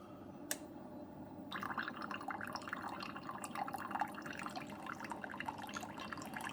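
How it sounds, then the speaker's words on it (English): A Keurig machine brews coffee through a reusable refillable K-Cup filter: after a brief click, liquid begins pouring and dripping continuously into the cup, a close, steady trickle lasting several seconds. "Here's our coffee coming out."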